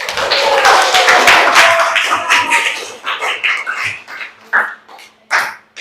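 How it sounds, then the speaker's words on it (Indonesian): Classroom of students clapping together, a dense burst of loud applause that thins into scattered, separate claps as it dies away. "Kita baru tepuk tangan dulu."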